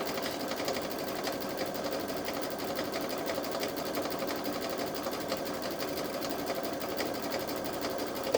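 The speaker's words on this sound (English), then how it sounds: "I'm standing up sewing." A Baby Lock Solaris Vision sewing machine stitching a quilted bag, running at a steady fast whir with a continuous rapid needle rhythm, close and even throughout.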